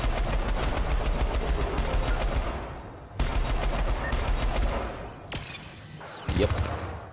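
Rapid automatic gunfire from the Syndicate video game, loud, dense bursts of shots, a short pause, then more sustained firing, followed by a few brief separate shots and clatter near the end.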